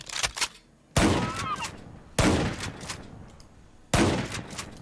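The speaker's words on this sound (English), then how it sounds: "Dodging shotgun pellets." Shotgun blasts from a Minecraft gun mod (TaC 1.18.2) sound in four loud, booming shots spaced about a second apart, each trailing into a short echoing decay.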